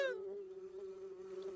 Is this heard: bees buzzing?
yes